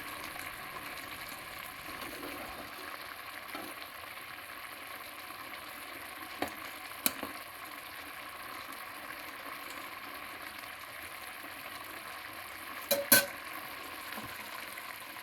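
Paneer curry cooks in butter with a quiet, steady sizzle throughout, broken by a few sharp clicks of a utensil stirring the pan.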